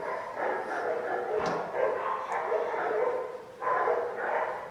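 A dog barks and yips in short bursts through a Portuguese news-style sketch, mixed with talking and background noise.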